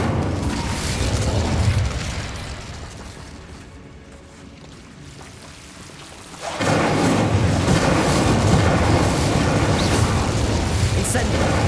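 Incendio fire spell cast in Hogwarts Legacy, a loud roaring whoosh of flame that fades into a quieter rumble before surging again into sustained crackling fire noise.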